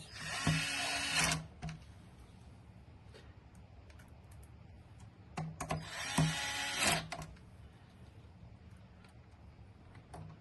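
An electric screwdriver driving screws while a gaming PC is assembled, two short close whirring bursts about five seconds apart with small clicks and handling taps between them, quiet room, no speech.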